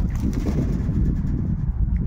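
Racing and breeding pigeons cooing in a loft, low throaty coos overlapping continuously at close range.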